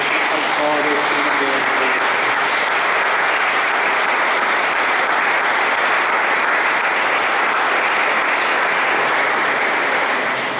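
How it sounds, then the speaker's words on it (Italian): Sustained, loud applause from a church congregation at a festive Sunday Mass fills the space evenly for the full stretch, a dense wash of clapping with faint voices mixed in at the start. "Diciamo il nostro grazie con un bel applauso al cuore."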